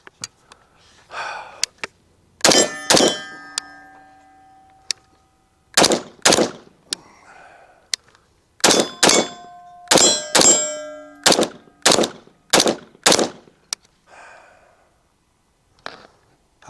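An IWI Carmel piston rifle fires sharp, loud shots at steel targets about 23 yards away, each shot followed by a ringing metallic clang, in spaced singles and quick strings.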